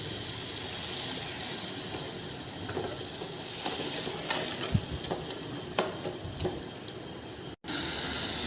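A little water is poured into the spiced masala in a pan for an Odia rohu fish curry with potatoes. It makes a soft, continuous gushing sizzle, fairly faint, with a brief dropout near the end.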